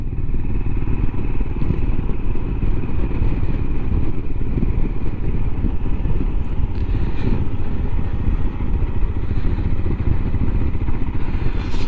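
Steady engine drone of a Royal Enfield Himalayan motorcycle cruising in third gear on a rural road, with constant rumble, wind buffeting and faint road clatter throughout, no talking.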